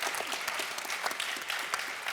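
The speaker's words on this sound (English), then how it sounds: "I wouldn't wish to deny anyone their applause" An audience at a panel debate on obesity management claps together in a dense, steady round of applause, moderately distant and sustained throughout.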